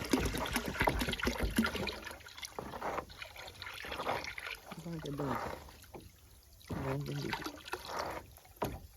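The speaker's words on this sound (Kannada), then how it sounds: "ಒಂದು ಬ್ಯಾರಲ್ ನೀರು ರೆಡಿಯಾಗಿದೆ ಈಗ ಐದು ಲೀಟರ್ ಗ್ರೀನ್ ಫಿಟ್ಟನ್ನು ಅದಕ್ಕೆ ಹಾಕ್ತಾ ಇದ್ದೇವೆ" Five litres of GreenFit herbal plant tonic pouring into a barrel of water, a close splashing gush that comes and goes between stretches of nearby talk.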